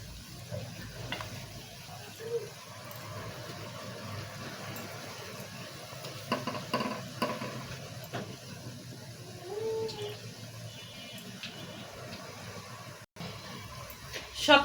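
Poa fish simmering in a pan with a little water, giving a soft, steady bubbling sizzle at low level with faint clinks now and then.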